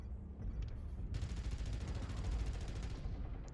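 Mech autocannon and machine gun fire in the video game MechWarrior Online, a fast, continuous rattle of rapid shots with a heavy low rumble underneath, sustained for several seconds and fairly quiet in the mix.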